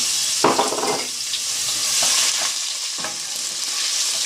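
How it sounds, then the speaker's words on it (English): Chopped ginger fries in a pan with cardamom and cinnamon, a loud, steady sizzle close by, broken by a few brief scraping stirs. "So now I'm going to add the chopped ginger. I will fry it"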